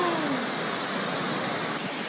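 Rushing floodwater during the Toowoomba flood, a loud, dense, unbroken roar of fast-moving water filling the whole clip, close and steady with no voices.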